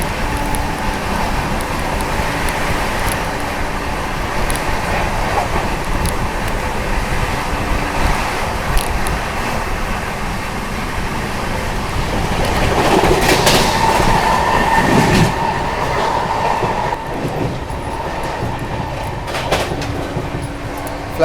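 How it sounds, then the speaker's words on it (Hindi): 12301 Howrah Rajdhani express train running at about 130 km/h, a steady loud rumble of wheels and carriages with rushing wind that swells midway and holds throughout, no voices. "ट्रेन अपनी जो है टूंडला जंक्शन स्किप करने जा रही है"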